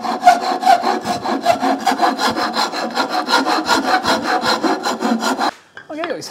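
Steady back-and-forth hand sawing through a wooden stool leg, strokes close and loud in an even rhythm for about five seconds, then stopping abruptly and leaving a brief quieter scrape.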